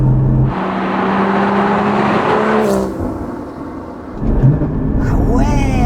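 A Porsche Cayman GT4's mid-mounted engine blips and revs during a heel-toe downshift, loud and close with rising and falling engine pitch, while someone talks over it.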